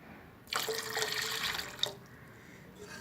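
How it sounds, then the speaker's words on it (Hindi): Cold water runs from a tap into a pot of freshly made paneer once the flame is switched off, a soft steady splashing pour that lasts about a second and a half and then stops. "और इसके अंदर मैं ठंडा पानी ऐड कर रही हूँ।"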